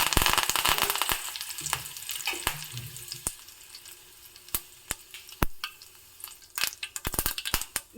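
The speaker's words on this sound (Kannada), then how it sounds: "ಎಣ್ಣೆ ಸ್ವಲ್ಪ ಕಾಯ್ತಿದ್ದಾಗೆ ಸ್ವಲ್ಪ ಸಾಸಿವೆ ಕಾಳು ಹಾಕ್ತಾ ಇದ್ದೀನಿ" Mustard seeds and curry leaves sputter in hot oil for a Tamil Iyengar-style amla pickle, a close, irregular burst of sharp pops and crackles over a steady sizzle, with the pops thickening toward the end.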